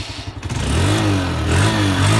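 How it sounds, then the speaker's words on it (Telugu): A second-hand motorcycle engine cranks and catches, then settles into a loud, close running note that the rider revs up twice. No one speaks over it. "ఒకసారి మీకు ఇంజన్ స్టార్ట్ చేసి ఇంజన్ సౌండ్ కూడా వినిపిస్తాను"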